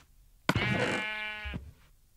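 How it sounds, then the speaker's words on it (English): A sheep bleats once in Minecraft, a single sustained harmonic bleat lasting about a second, clear and close with no talk over it. "Look at all them naked sheep, man"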